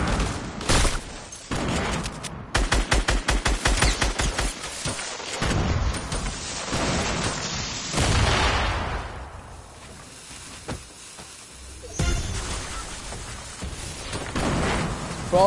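Video-game combat: a grenade blast and bursts of rapid gunfire, loud, choppy volleys, with pauses and scattered single shots across the stretch.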